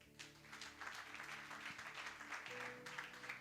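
Congregation clapping together in a church during worship: a steady, dense patter of many hands over sustained instrumental music, moderately loud throughout.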